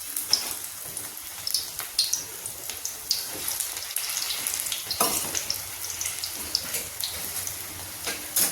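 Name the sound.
oil heating and sizzling in a kadhai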